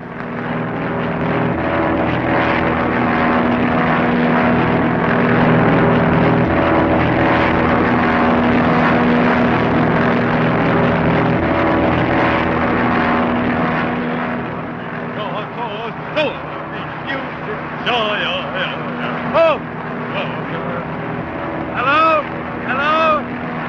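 A propeller airplane drones loud and close in a continuous rumbling roar that swells and then fades away, with voices talking over the tail end as it passes.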